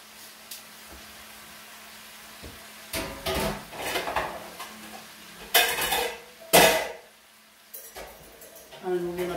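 Onion, beef and green beans land in a pan for black pepper beef, giving a few clattering bursts of utensils and cookware, loud at moments and scattered over roughly nine seconds, with quiet stretches between.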